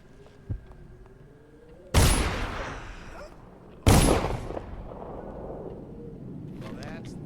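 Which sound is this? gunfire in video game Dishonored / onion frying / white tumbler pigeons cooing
gunfire in video game Dishonored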